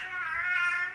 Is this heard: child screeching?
yes